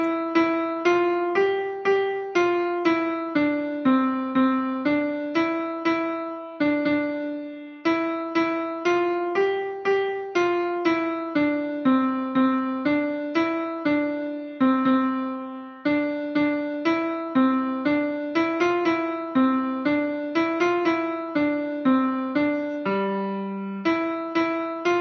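Ode to Joy melody played on a sustained, organ-like instrument, shortened with repeat marks; steady single-line tune of evenly spaced notes with brief pauses between phrases, clear and alone throughout.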